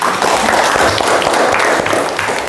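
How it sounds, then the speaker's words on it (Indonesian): Classroom applause at the close of a group guidance session, a dense, steady wash of many hands clapping that fills the whole moment without a break. "Tepuk tangan untuk kita semua."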